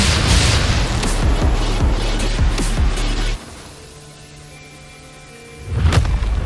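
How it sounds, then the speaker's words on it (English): Heavy booming blasts in the video game Wuthering Waves: a loud sustained rumble of repeated impacts, a sudden drop to a quiet hum, then another sharp explosive burst near the end. "What caused the explosion?"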